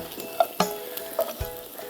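Chopped coriander leaves lightly frying in oil just before the pan comes off the heat, a low, even sizzle broken by a few sharp clicks and taps of a utensil, close and fairly quiet.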